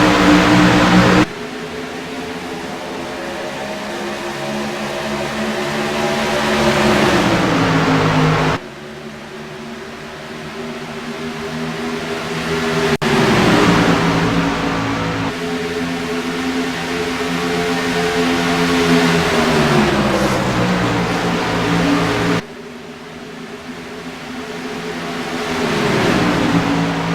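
Race trucks in an online CW Trucks race at Chicagoland Speedway drone steadily at high revs for a long stretch, engine pitch rising and falling as they pass, with abrupt cuts between shots.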